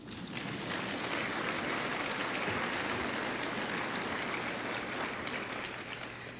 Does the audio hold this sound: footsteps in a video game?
no